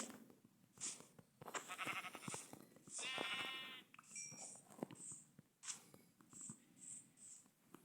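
A video-game sheep gives a clear, wavering bleat. It is quiet and surrounded by other soft animal calls and game noises.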